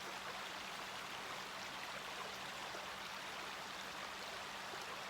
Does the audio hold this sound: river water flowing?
yes